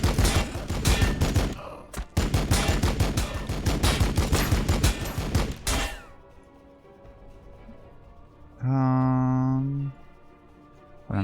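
Rapid fusillade of gunfire from units shooting in Warhammer Battlesector, dense bursts of shots for about six seconds, loud, then quiet followed by a brief electronic tone.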